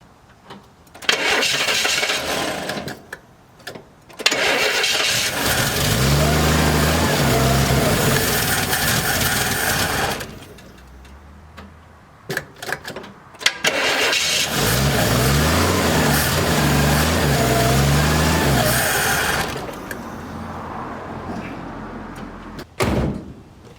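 A 1964 Pontiac LeMans with a leaking carburetor cranks and fires up, its engine revving hard in two long loud bursts separated by a brief lull, with clunks between.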